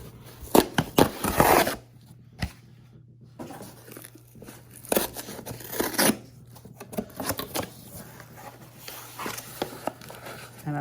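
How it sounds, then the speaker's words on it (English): Paper wrapper on a half dollar coin roll being torn open, a burst of crisp ripping and crinkling near the start, followed by softer paper rustling and coin handling over a low steady hum. "That didn't rip very well."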